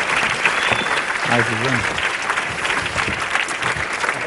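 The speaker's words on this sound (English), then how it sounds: "Big round of applause." Steady applause from an audience welcoming people up onto a stage, a dense roomful of clapping that continues under a brief spoken remark and some crowd murmur.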